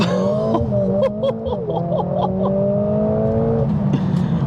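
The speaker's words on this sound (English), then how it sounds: "typical launch control, foot on the brake, foot on the accelerator, race start, and then" Mercedes-AMG A45S pulling away hard from a launch-control race start, its engine note climbing steadily and loud inside the cabin with a droning rise, no speech over it.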